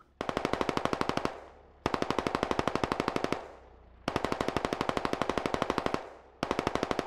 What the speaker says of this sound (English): Not sure what Redibus is shooting at.